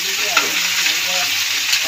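A loud, dense sizzle of mixed vegetables frying with turmeric and salt in a pan alongside prawns, with a steady hiss and faint stirring scrapes throughout the short burst.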